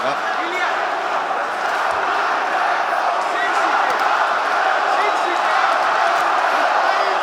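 An arena crowd at a UFC fight produces a dense, constant roar of cheering and shouting that holds loud and steady throughout, with scattered whoops and claps rising out of the din.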